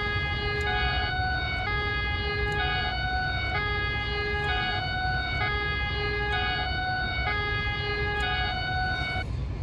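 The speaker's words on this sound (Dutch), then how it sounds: "Daar gaat de NS-ambulance," An ambulance siren in the Train Simulator 2014 video game wails steadily in a repeating two-tone pattern, loud and continuous over a low rumbling background, with no talk.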